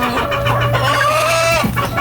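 Backyard native chickens, including a hen, clucking and calling close by in a steady run of overlapping clucks, with one longer drawn-out call near the end.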